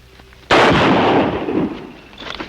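A single loud, close gunshot in a radio drama sounds a sudden sharp crack, and a long rolling echo fades slowly away behind it.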